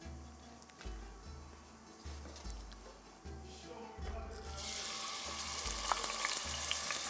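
Onion sizzles in a hot frying pan, a steady crackling fry that turns louder and brighter halfway through, with low rhythmic noise underneath and no voices.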